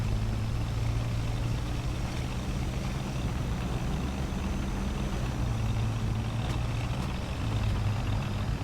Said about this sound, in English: I just heard a car engine.